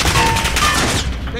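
Loud, close gunfire in a Call of Duty match, a quick dense volley of shots running for about a second before cutting off.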